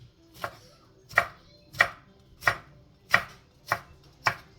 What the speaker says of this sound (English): So I'm gonna put them in some small slices.